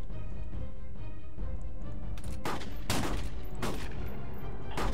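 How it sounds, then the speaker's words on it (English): Bursts of Arma 3 gunfire crack out in rapid clusters over a low background rumble, with several sharp volleys in the second half. "Was that gunshot you guys?"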